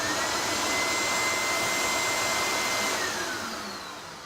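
Aspirtech 500 central vacuum unit running indoors, a loud, steady, close motor roar and rush of air with a high whine on top, continuous throughout and easing slightly at the end.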